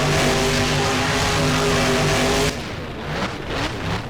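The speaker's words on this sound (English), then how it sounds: "And putting the truck into a donut." A monster truck in the BeamNG video game spins through a donut, its engine roaring loudly and steadily before the tone abruptly drops to rougher tire and dirt noise.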